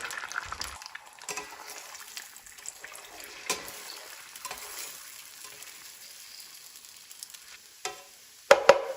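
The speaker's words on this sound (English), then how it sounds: "Next, we're going to add our 12 eggs. And we're going to give those a good scramble." Twelve beaten eggs cook in a pan for breakfast burritos, giving a soft, steady sizzle with scattered scraping and stirring clatters, then a couple of sharper knocks near the end.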